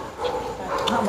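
A dog gives a few barks and yips over steady background noise at a Vietnamese country meal, with voices talking in the background.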